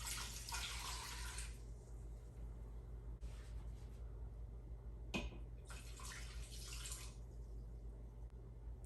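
Water pouring into an Instant Pot while cooking corned beef and cabbage, faint splashing and trickling in two short bursts separated by quiet, with a small clunk in between.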